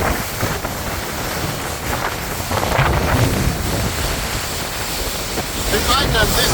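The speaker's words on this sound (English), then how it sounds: "we got some waves because we're going against the wind" Strong wind buffets the microphone aboard a boat on the Amazon river as it heads into the wind, with a constant broadband roar and the wash of river waves slapping nearby, loud throughout.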